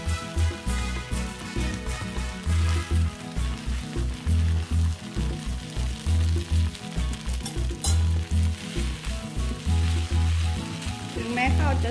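Rice sizzles in a hot pan while it is stirred and scraped in a steady rhythm, with music playing in the background.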